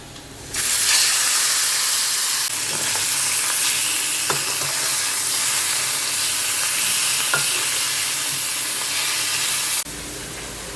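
Parshe fish frying in an oily kadai for a spicy curry, a steady loud sizzle and hiss that holds for about nine seconds with a few faint stirring clicks, then cuts off abruptly.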